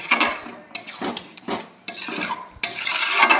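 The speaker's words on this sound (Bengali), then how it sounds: "এই যে ঘিটা আমি এবার মিশিয়ে নিচ্ছি।" A spoon stirs ghee through egg tadka in a pan, making about five close, rhythmic scraping strokes with a faint sizzle between them and no voices.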